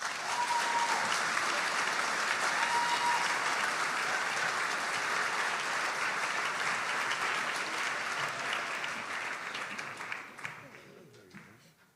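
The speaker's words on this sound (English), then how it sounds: "Please give a nice round of applause to Plymouth North legend, Mr. Kelly." A large audience at a high school Veterans Day ceremony gives a long, steady round of applause for a Navy veteran, dense and loud throughout before thinning out and fading near the end.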